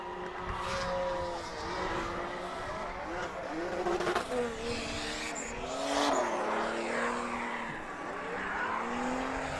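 Drift cars, including a Nissan 350Z and an Infiniti G35, run in tandem at a race circuit, engines revving and tires squealing in wavering overlapping tones at mid distance, with people talking under the noise.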